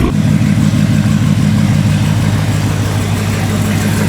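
A 1000-horsepower Dodge Hellcat idles while being parked, its deep, steady engine rumble loud and close, holding an even throb for the whole stretch with no talk over it.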